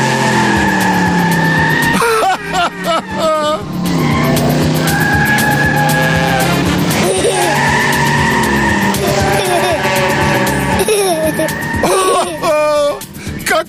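A cartoon Pocoyo invisible car races about, its tires squealing in loud, repeated pitched skids over a busy, continuous backdrop of sound.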